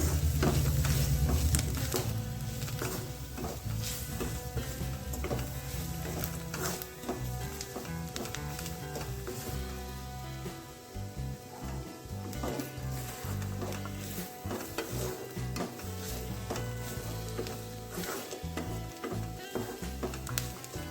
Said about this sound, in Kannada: ಇದನ್ನೀಗ ಚೆನ್ನಾಗಿ ಇನ್ನೊಂದು ಸ್ವಲ್ಪ ಹೊತ್ತು ಫ್ರೈ ಮಾಡೋಣ